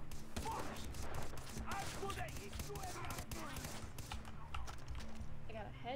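Gunfire in the co-op shooter Far Cry 3, a rapid burst of shots and clattering impacts at moderate loudness, mixed under game noise and players talking.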